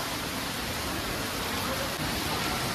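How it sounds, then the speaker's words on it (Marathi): Rain falling steadily, a dense, even wash of hiss with no breaks, close and fairly loud for a few seconds. "तिकडे बघा पाऊस चालू झालाय बघा"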